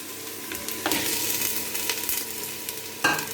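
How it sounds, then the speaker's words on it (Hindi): Half a kilogram of chicken frying in a handi with lightly browned onions, a continuous sizzle with bursts of stirring and scraping, close and fairly loud, no talking. "अब हम हांडी में 1/2 kg चिकन ऐड करेंगे"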